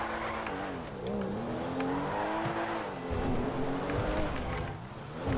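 An expensive, very fast car in a video game spins out, its engine revving and whining in wavering pitch with tire squeal and skidding, loud and continuous throughout.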